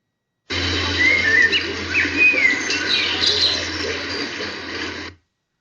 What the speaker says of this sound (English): Well, I heard the bird.